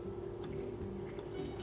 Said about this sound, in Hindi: फिर इसमें थोड़ा थोड़ा पानी डाल के इसको मिक्स करते जाएंगे